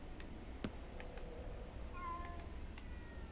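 Kittens meow faintly in the video game Ghostwire Tokyo, a few short high mews over a low background hum, with scattered soft clicks.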